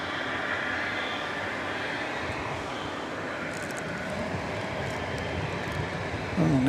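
Boeing 757 and 747 airliners move around DFW airport after dark, giving off a steady, distant jet engine rumble and whine that holds even throughout, with a short louder burst right at the end.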